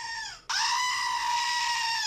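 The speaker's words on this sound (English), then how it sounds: "We have a goat named Gerald now, so Gerald would like to say something." A goat lets out a loud, drawn-out bleat close by, a brief opening cry that dips before a sustained strained call, heard alone.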